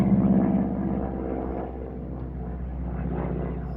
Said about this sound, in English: So I'm trying to talk over an airplane.